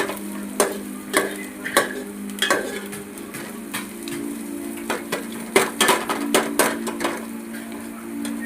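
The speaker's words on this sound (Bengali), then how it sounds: "ভালোভাবে এমন নেড়ে নেড়ে লাল করতে হবে পেঁয়াজটাকে।" Onions frying in a pan for ghugni, stirred over and over until browned: a continuous sizzle under sharp, irregular scrapes and clacks of the spatula against the metal, fairly close and loud.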